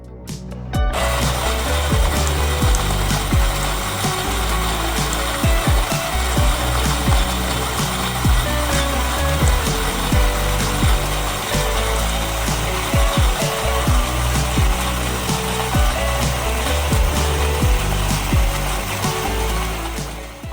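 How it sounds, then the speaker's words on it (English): A HiBrew G5 single-dose grinder grinding coffee beans, giving a continuous loud whirring and crunching grind that runs steadily for about twenty seconds, with no voices. "put the coffee in the grinder and start grinding"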